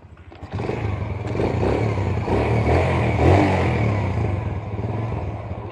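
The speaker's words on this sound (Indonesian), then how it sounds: "Suara mesin ya Mas Bu." A Yamaha Vega motorcycle engine runs close by after an engine overhaul and connecting rod replacement, idling with a rough mechanical clatter, then revving up steadily and holding a loud, uneven drone.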